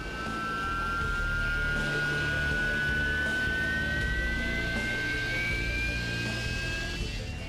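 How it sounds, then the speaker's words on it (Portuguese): Harrier jet aircraft roaring during vertical takeoff and landing training in Scotland, a loud sustained jet engine blast with a rising high-pitched whine, continuous and close throughout. "Aqui na Escócia, eles estão em treinamento para pouso e decolagem vertical de qualquer lugar, em qualquer condição."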